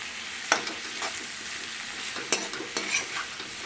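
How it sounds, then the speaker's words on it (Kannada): Potato and capsicum strips frying in oil in a pan, with a steady close sizzle broken by several sharp scrapes and clinks from a spatula stirring the vegetables. "ಇದನ್ನೆಲ್ಲ 1 ರೌಂಡು ಎಣ್ಣೆಯಲ್ಲಿ ಚೆನ್ನಾಗಿ ಫ್ರೈ ಮಾಡ್ಕೊಳ್ಳೋಣ"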